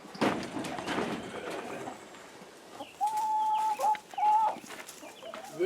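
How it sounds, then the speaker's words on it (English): Several chickens locked in a coop for the night cluck and squawk at close range, with a rustle of movement at first, then a run of short, tonal clucks and calls. "Good chickens."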